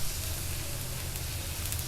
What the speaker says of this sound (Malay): Ini sate macam goreng kot lah ni.